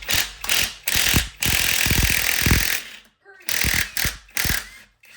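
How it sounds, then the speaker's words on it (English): A 3/8-inch drive impact wrench takes valve cover bolts off a 5.4L 3V engine in loud, close, rattling hammering bursts, with short pauses between them. "This 3/8 drive impact I'm using right now"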